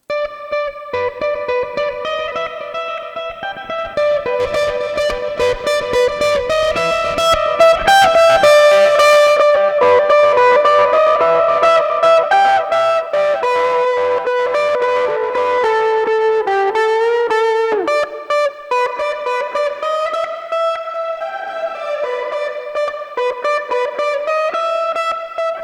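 Electric guitar processed with heavy delay and reverb in Ableton, sustained chords and notes washing into long echoing tails, played loud and continuous with no talking.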